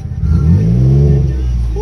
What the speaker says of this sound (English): I'm gonna let you hear this engine real quick.